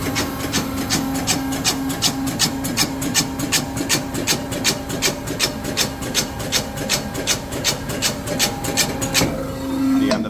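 A Foodlogistik C-90 dicer machine runs a cutting cycle, loud and close, with a steady mechanical drone under a fast, even train of sharp blade clacks that continues throughout and ends as the motor winds down.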